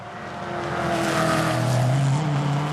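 Ferrari race cars in a GT championship race drive past at a distance, a steady droning engine note with a slight rising pitch, fairly faint under the track ambience.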